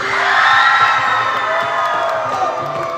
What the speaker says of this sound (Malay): Nak dengar jeritan daripada Sekolah Seni Malaysia Kuala Lumpur.